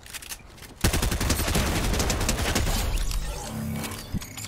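Rapid automatic gunfire in the Fortnite video game, a dense burst of repeated shots starting abruptly and continuing in a steady rattling stream, with a few clipped bangs near the end.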